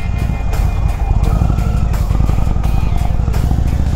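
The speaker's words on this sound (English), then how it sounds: "what an awesome low growl from this exhaust" A 2021 Indian Chieftain Dark Horse motorcycle idles with a deep, loud, rumbling exhaust growl, steady and close throughout.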